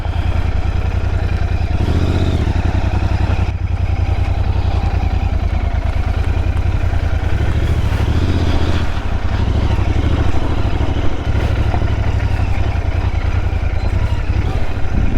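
A Royal Enfield Interceptor 650 motorcycle rides through monsoon weather south of Pune, its twin-cylinder engine thrumming loudly and continuously with a few brief swells in revs and constant wind rush.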